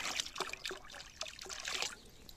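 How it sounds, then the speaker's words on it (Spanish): Bostol liquid biological fertilizer pours into a container of water with a bright, splashing trickle that comes in several quick gulping surges, close and fairly quiet. "por lo que echaré 2 litros de Bostol"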